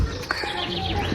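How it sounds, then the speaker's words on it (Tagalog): Birds calling on a mountainside, their thin chirps and short tonal calls rising over a steady outdoor background, moderately close and fairly faint throughout. "ang ibon, ang ingay nila"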